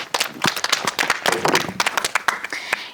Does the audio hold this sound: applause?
yes